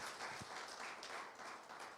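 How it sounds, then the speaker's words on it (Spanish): Audience applause in a church service, a short burst of steady clapping that stays fairly faint and distant throughout, with no voices over it. "Quiero que le dé un aplauso"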